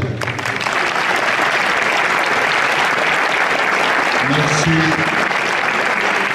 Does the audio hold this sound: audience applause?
yes